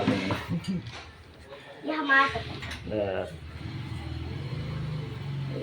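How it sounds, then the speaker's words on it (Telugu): An auto rickshaw arrives, its engine rumbling as a steady drone under loud, overlapping voices, with the motor noise continuing alone toward the end. "ఆటో వచ్చింది"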